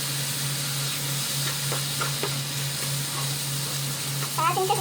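Soy sauce hits stir-frying fried rice in a hot pan, setting off a steady sizzle with faint scraping and stirring clicks throughout and a brief burst of hissing near the end.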